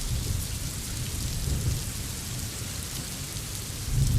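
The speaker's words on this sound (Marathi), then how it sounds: "जोरदार पाऊस या ठिकाणी सुरू झालेला आहे।" Heavy monsoon rain pours steadily over a waterlogged street in the Diva area near Mumbai, a dense, unbroken hiss with low rumbling swells and a louder surge at the end, with no voices.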